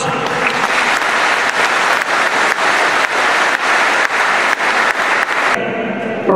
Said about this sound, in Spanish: Brindémosles una vez más calurosos aplausos.